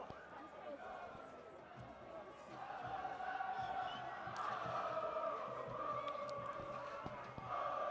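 Supporters of Churchill school cheer and chant at a schoolboy rugby match against Prince Edward, a distant, continuous crowd roar that swells midway and holds, faint and washed out in the background.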